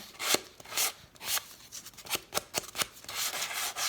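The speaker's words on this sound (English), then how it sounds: "It is a unique noise, isn't it, Sophia? The sanding noise." Sandpaper rubbing along the edges of a handmade craft journal, a series of close, raspy strokes in an uneven rhythm, alone with no talk.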